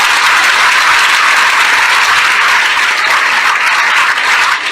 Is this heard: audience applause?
yes